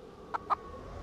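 A chicken in a coop in the zombie survival game 7 Days to Die gives two quick, close clucks in succession over a quiet background hum.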